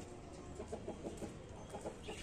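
Desi and Aseel Kagar chickens cluck while being fed wheat, a faint, rapid series of short clucks at a distance with no talk.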